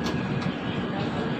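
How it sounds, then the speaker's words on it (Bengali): A train pulls out of Asansol station, heard as a dense, steady rumble of wheels and carriage noise with no clear breaks. "10:50-এ ট্রেন আসানসোল ছাড়ছে,"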